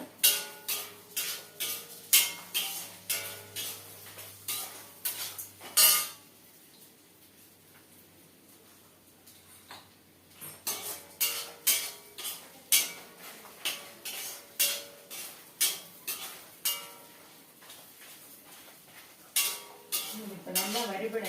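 Coconut and tamarind dry-roasting in a pan over a medium flame, stirred with a metal spoon in a quick run of sharp rhythmic scrapes and clinks, then a quiet pause and another steady burst of stirring.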